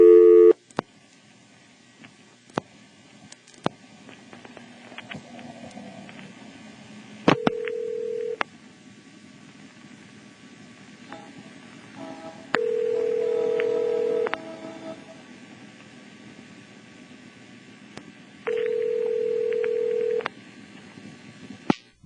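1977 NX1-E telephone switch in Vanceboro, North Carolina handling calls, with sparse relay clicks, short tone bursts and several sustained steady tones over a quiet low hum.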